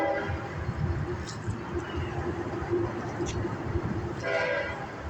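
A train rolls along a railroad with abandoned spurs nearby, giving a steady, continuous rumble and rattle, with faint horn-like tones rising now and then over the noise.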